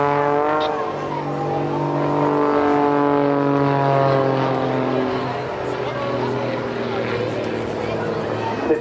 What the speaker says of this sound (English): this time he's hanging the aircraft on the propeller, and a boot full of rudder fitted round